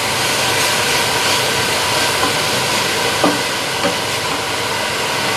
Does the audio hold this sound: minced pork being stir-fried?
yes